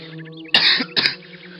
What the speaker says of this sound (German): Und vor lauter Staub muss ich jetzt auch husten.